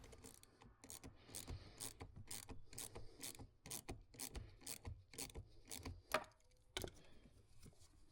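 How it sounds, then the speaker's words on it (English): A 10mm socket ratchet loosens the positive battery cable nut on a Corvette Z06, giving a steady run of quick, close clicks and scraping rasps with short pauses between strokes. "the same 10mm socket will loosen the nut on the positive cable."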